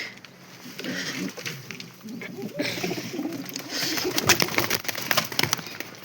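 Soft pigeon coos and fluttery rustling from several birds close by, with scattered patters and faint voices in the background.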